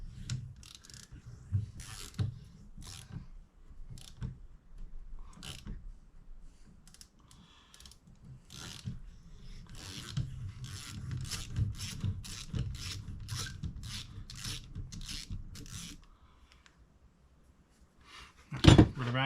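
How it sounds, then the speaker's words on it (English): A tap cuts threads into the metal of a steering box for hydro assist, a close ratcheting, grinding series of clicks worked back and forth in a steady rhythm, ending with a louder thump. "you're cutting into metal, making threads"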